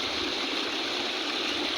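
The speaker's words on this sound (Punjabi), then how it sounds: "ਇਦਾਂ ਪਾਣੀ ਦੀ ਆਵਾਜ਼ ਚੱਲ ਰਹੀ ਹੈ" Flood water runs through rice paddies after heavy rain, a steady, rushing wash of flowing water close by, continuous with no breaks.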